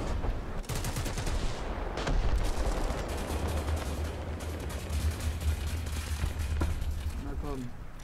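Gunfire aimed at a T-10A tank's cannon barrel in a War Thunder battle in the Ardennes, dense rattling shots over constant engine rumble, with someone speaking German over the noise.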